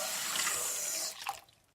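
Water pours steadily from a tap for just over a second and then cuts off, leaving a faint trickle. The sound is close and moderately soft, with no voices.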